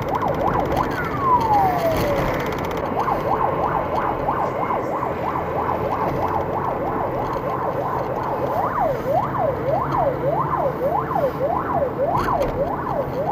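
An emergency vehicle siren wails close by on a city street, its tone sweeping up and down in steady repeating cycles, loud and continuous over a low traffic rumble with no voices.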